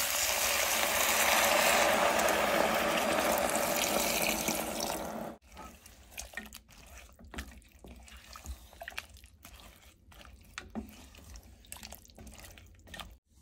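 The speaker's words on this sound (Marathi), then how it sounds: "आणि यात आपण आता पाणी घालूया" Water pours into a vegetable cooking pan holding cabbage and spinach, a loud steady gush for about five seconds that cuts off abruptly, followed by faint drips and small clinks.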